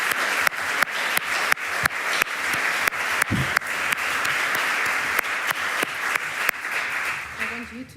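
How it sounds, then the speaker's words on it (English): Steady audience applause from a seated crowd at a talk, dense clapping sustained for about eight seconds with sharper individual claps cutting through, fading out at the end as a voice begins. "Can I have a warm applause?"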